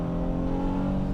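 Honda Passport Trailsport SUV engine accelerating hard in sport mode on a snowy winter road, a brief, steady droning hum heard close from inside the cabin.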